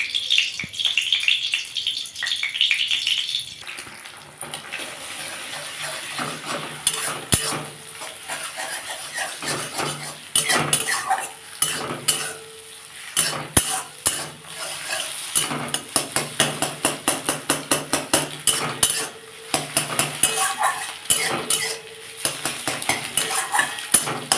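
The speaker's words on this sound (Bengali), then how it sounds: "কড়ার তেলটা গরম হয়ে গেলে আমি দুটো ডিম একটু ভেজ ঝুড়ি করে ভেজে নেবো" Two eggs are scrambled in hot oil in a wok, with a soft sizzle under a long run of quick, rhythmic metal scrapes and clatters of a spatula against the pan, loud and close.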